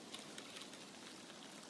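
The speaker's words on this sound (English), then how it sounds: "we got some rain" Faint, steady rainfall in Escape from Tarkov, a soft continuous patter of drops with no talking over it.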